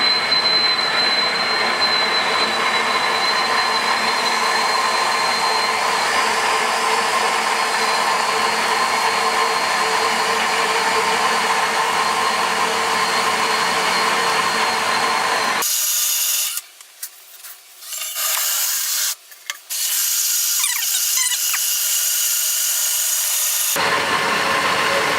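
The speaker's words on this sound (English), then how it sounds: "Okay, so I'm just going to run this through. You'll be able to see why having a drill is a big advantage," An electric drill driving a grain mill to crush brewing grain, a steady loud whirring grind running continuously, then briefly cutting out and restarting near the end.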